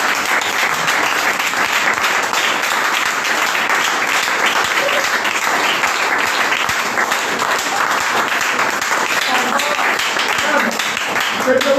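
A church congregation at a Sunday service stands and applauds God, producing steady, loud, dense clapping that fills the room without a break and keeps an even intensity throughout.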